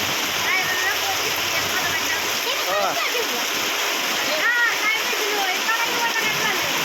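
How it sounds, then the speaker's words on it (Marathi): Dense, steady roar of heavy rain pouring down, with voices talking intermittently over the downpour. "पाऊस लय मोठा आहे"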